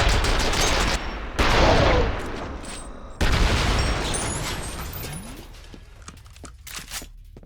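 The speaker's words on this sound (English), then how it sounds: "Wait, what was it shooting at?" Enemy gunfire in the video game F.E.A.R., with loud sustained bursts of automatic fire broken by short pauses and followed by scattered lighter pops.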